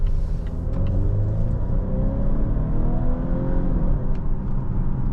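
A 2025 Volvo V90 Cross Country B6 accelerates smoothly with a steady, full rumble and rising whir, close and continuous with no talking.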